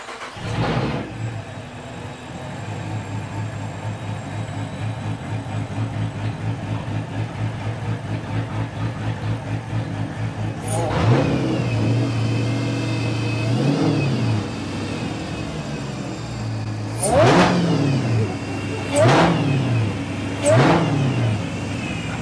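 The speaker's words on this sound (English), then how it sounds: "you guys have a Hellcat swap cop car and it runs now" A retired V8 police car fitted with a swapped-in supercharged Hellcat engine idles with a lumpy rumble, then gets three or four sharp revs near the end, each climbing and falling back, loud and close.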